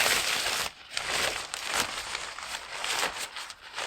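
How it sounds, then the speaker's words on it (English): Tent door flap fabric on a dome tent is rolled up by hand, giving a continuous close rustling and crinkling of nylon with small pauses and no talking. "allowing you to roll this flap up"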